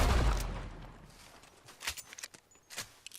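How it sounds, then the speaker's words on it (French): A gunshot from the video game Red Dead Redemption 2 opens with a loud, booming blast that fades away, followed by a few quieter thuds and clicks, heard alone without talk. "On va essayer de tirer un coup de feu là."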